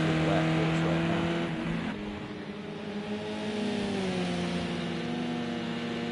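Race car engine in a racing video game during a lap, a sustained droning whine that shifts pitch as the car accelerates and changes gear, loud and continuous, with talking over it.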